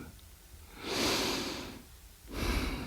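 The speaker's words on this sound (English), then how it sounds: "Take a moment to breathe." Slow, deep breaths during a calm relaxation exercise: one long airy inhale or exhale swelling for about a second, a pause, then another breath beginning, close and soft with no talking.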